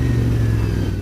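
Close up, the exhaust of a Royal Enfield Interceptor 650 motorcycle gives a deep, steady burble as it decelerates on a back road. The short, loud low rumble is heard alone, with no voices.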